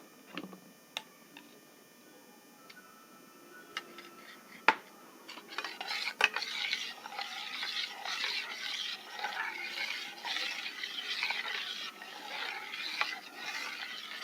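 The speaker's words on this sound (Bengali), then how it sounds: "এই সব বেসের মধ্যে আমরা এবার যে পেস্টটা তৈরি করেছিলাম নিম তুলসী মধু দিয়ে সেটা আমরা একটু মিশিয়ে দেবো" A spoon scrapes and clinks in a bowl while a neem, tulsi and honey paste is stirred into melted soap base, starting with scattered taps and building to steady, close scraping.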